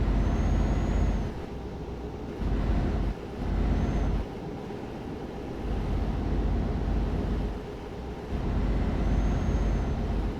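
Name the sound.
vehicle braking on a descent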